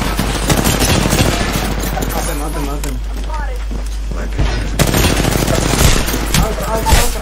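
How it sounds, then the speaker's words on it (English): Rapid bursts of gunfire from the video game Apex Legends, sustained and loud through the clip with music and game effects underneath and a player's voice talking over it. "I didn't see him, I was just shooting."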